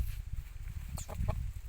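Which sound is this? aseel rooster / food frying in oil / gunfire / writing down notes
aseel rooster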